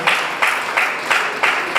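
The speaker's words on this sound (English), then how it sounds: "Please a round of applause for the keynote speaker" Audience applause for the keynote speaker at a Nigerian Bar Association Eket Branch opening ceremony: dense, steady clapping that swells in regular pulses throughout.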